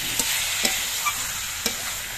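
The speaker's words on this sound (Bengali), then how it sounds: "এবার এর মধ্যে আমি সেদ্ধ করা শিমগুলো দিয়ে দিচ্ছি" Boiled flat beans being stirred into reddish-browned fried onions, a continuous close sizzle with a few light scrapes of a spoon against the pan over about two seconds, no voices.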